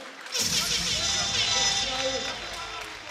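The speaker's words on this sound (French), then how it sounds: "On applaudit bien fort nos combattants" Crowd at an Ultimate Cage MMA event applauding the fighters after a bout, a broad cheering, clapping roar that swells in and holds, with an announcer's voice running over it.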